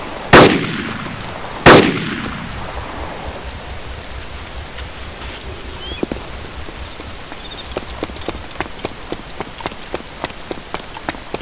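Two loud, sharp rifle shots from the video game DayZ ring out early and echo away, followed by a run of quieter rapid clicks and faint rain-like patter.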